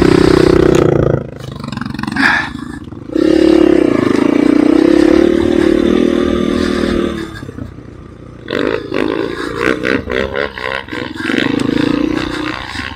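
A motorcycle engine revs loudly in bursts, with roaring throttle swells separated by brief dips, close by in a spring outdoor ride setting.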